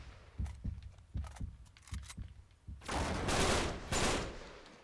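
Sniper gunfire in the PS4 game Uncharted 3: Drake's Deception. A run of dull, evenly spaced thumps gives way to loud, harsh bursts of shots that fill the second half.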